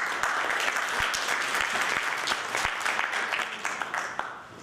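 Sustained audience applause at a public forum on Israel and Hindu Kashmir, a dense, steady wash of clapping from a sizeable crowd that carries evenly for several seconds before thinning out at the end.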